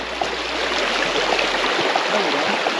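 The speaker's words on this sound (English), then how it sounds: "We gotta cross this babbling brook." A small babbling brook running right beside a road on a forest hike, its steady broadband rushing and trickling water close and continuous throughout, with no talk over it.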